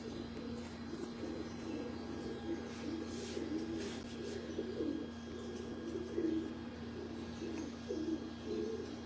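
Pigeons coo softly and continuously on a rooftop in Lahore, a low murmuring burble that holds steady throughout, with light chirps and a constant background hum.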